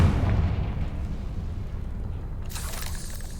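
The Confringo fire spell from a Harry Potter video game erupts after a low rumbling lead-in, ending in a sharp, bright burst.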